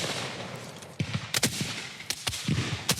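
Musket volleys in a Civil War battle reenactment: several sharp gunshot cracks ring out in uneven bursts, some close together, against a constant rough background roar, with no talking.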